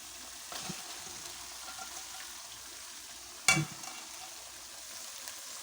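Eggplant and chillies fry in hot oil for Hyderabadi bhagare baingan, a faint, steady sizzle broken midway by one sharp, louder crackle and clatter.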